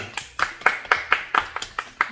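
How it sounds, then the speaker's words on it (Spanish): Scattered hand claps for Bombón Sol y Luna, roughly eight distinct claps in an uneven rhythm, fairly close and moderately loud, with no talking over them. "Un aplauso para Bombón Sol y Luna"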